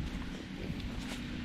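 Horse hooves clop on the ground in a quick, uneven rhythm, close by and moderately loud, with no one speaking.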